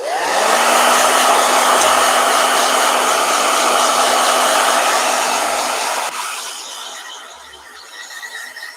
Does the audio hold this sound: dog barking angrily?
no